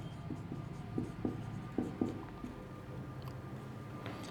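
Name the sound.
writing physics lecture notes on board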